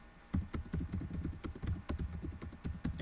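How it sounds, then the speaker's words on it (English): Clattering computer keyboard typing during an online meeting, a steady run of quick key clicks with sharp louder strokes, fairly close and continuous with no speech over it. "we're hearing keyboards going"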